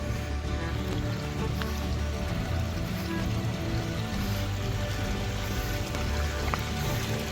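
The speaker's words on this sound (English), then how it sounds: "Small little creek." Water from a small creek near Rattlesnake Ledge rushes and trickles in a constant, even wash, close by with no voices.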